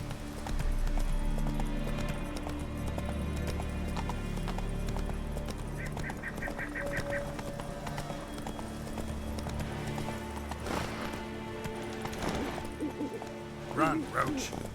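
Hooves of Roach, Geralt's horse in the Witcher 3 video game on PC, clop in a steady galloping rhythm beneath game music and a voice urging the horse on.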